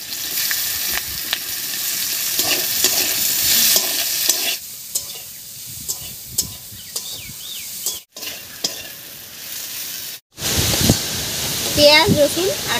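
Chopped onion hits hot oil with garlic and green chillies in a wok, a loud sizzle and stirring that drops away briefly at times, then surges back with a bright hiss and spatter near the end.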